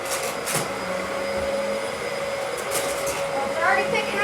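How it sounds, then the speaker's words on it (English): A vacuum cleaner runs continuously while vacuuming a house, a steady whirring drone with a faint high whine, with people talking quietly over it. "I'm gonna see if I can make sure you guys see me vacuuming."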